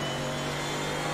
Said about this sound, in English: Sorry, my engine's too loud at the moment.